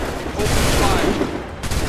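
A musket volley fires in Assassin's Creed 3, a loud, dense crackle of many guns going off together in one sustained burst, close and harsh.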